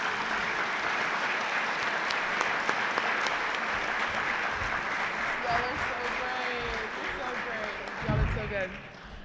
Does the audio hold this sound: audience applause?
yes